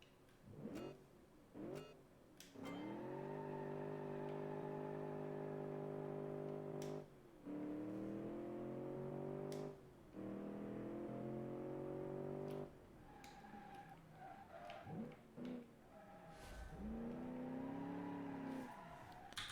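A car in a driving video game accelerates on the throttle with loud, sustained engine drones that rise in pitch, broken by short gaps and quick throttle blips. Brief tire squeals are heard as the car spins around.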